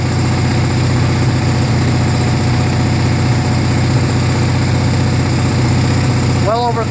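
A Murray Ultra garden tractor's opposed-twin engine with magneto ignition idles roughly on slow throttle, a loud, close, steady drone that runs without a break, with a brief chirp near the end.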